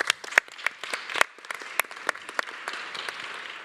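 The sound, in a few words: applause, audience clapping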